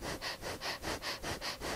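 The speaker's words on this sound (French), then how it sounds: "continuez, respiration du feu" Rapid, forceful rhythmic breaths of a breath-of-fire exercise, about five even pulses of sharp nasal air in quick succession, close and fairly soft with nothing else heard.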